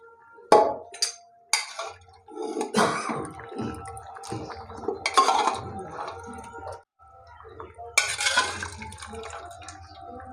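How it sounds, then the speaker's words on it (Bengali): Boiled chana dal going into a cooking pot of drumstick stem curry, with a few sharp clinks of utensil on pot and soft wet plops and drips, spaced out and fairly close, no talk. "এখন আমি এই যে সেদ্ধ করে রেখে দিয়েছিলাম, এই সেদ্ধ করা ছোলার ডালটা দিয়ে দেবো।"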